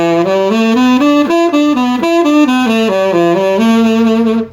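A single melodic instrument plays a pentatonic scale pattern in D, stepping rising and falling in short groups, clear and close, then stops abruptly.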